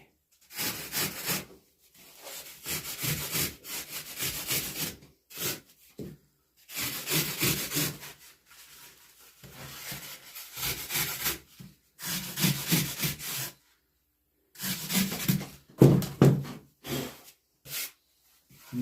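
Excess material is trimmed off a carved body for a crappie fish mount, producing close, repeated bursts of rasping, rubbing strokes with short pauses between them and no talking.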